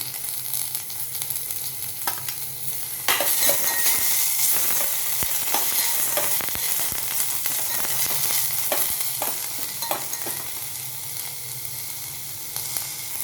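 Onion frying with ginger-garlic paste in a pan for spinach soup, giving a steady loud sizzle throughout with occasional stirring scrapes, the hiss growing denser after a few seconds.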